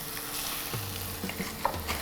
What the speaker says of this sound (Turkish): Yağ kızdıktan sonra da tavukları yağ atıyorum ve güzelce kızartacağım.